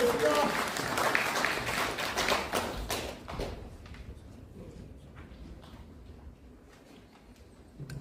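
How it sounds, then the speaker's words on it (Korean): Welcoming applause from a seminar audience at Myongji University, a burst of clapping that is dense at first, then thins and fades over the next few seconds. "환영의 박수 보내주시기 바라겠습니다"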